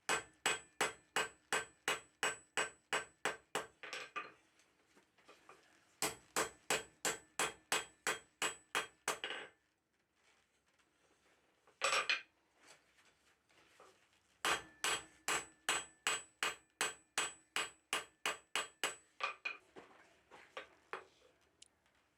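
A hammer strikes half-inch square steel bar at low heat while tong blanks are forged, with bursts of about a dozen rapid, evenly spaced ringing blows separated by short pauses and a few isolated hits.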